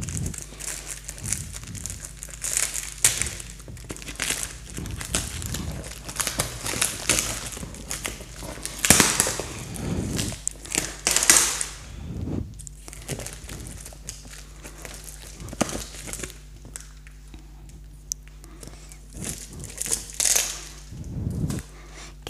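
Packaging around a parcel of books crinkles and crunches as it is opened, with scattered bursts of crumpling and rustling separated by quieter stretches.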